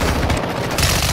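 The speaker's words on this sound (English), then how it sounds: "I hear gunfire." Rapid automatic gunfire from a video game, a loud, dense burst of shots lasting about a second with no talking over it.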